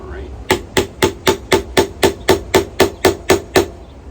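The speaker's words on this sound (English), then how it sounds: "Kind of a makeshift hammer there." Twelve evenly spaced, sharp taps of a makeshift hammer while fitting together pieces of a roof-friendly projection-mapping screen, close and loud with a steady rhythm and no talking.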